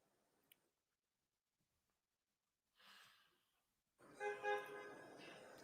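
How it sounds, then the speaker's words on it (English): A car horn hoots during a live tennis match in Suzhou; after a near-silent stretch a faint, sustained honk with a couple of swells rises near the end. "Hooting the horn."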